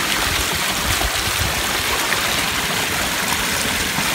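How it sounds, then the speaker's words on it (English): A small backyard pondless waterfall feeding a stream with little rapids rushes steadily and fairly close, a continuous broadband wash of flowing, splashing water with no voices over it. "I really like the stream."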